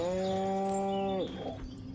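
A cow moos in the Destroy All Humans remake video game, one clear sustained harmonic moo lasting just over a second, close and loud, followed by quieter game ambience.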